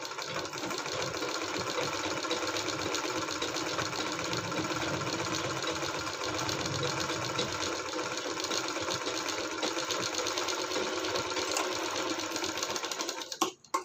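A sewing machine runs steadily for a long stretch, stitching a seam on a fabric sewing machine cover made from waste cloth, with a close, even, buzzing whir and a few clicks at the end.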